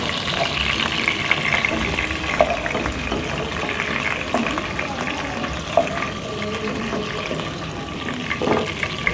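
Chicken pieces fry in hot oil until golden brown for chilli chicken, a steady close sizzle running the full length with occasional soft clicks and no talking.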